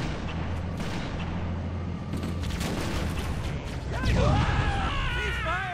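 Gunfire and explosions in the Halo: Combat Evolved assault on the control room, a dense continuous barrage of shots and blasts with a louder burst and ringing, warbling tones near the end.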